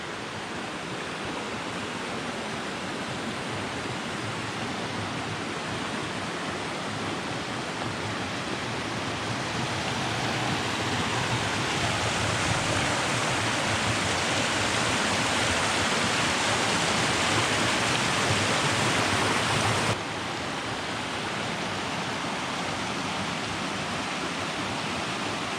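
A mountain stream at a Colorado Trail campsite rushes in a steady, dense wash of flowing water, continuous and fairly loud throughout with no voices.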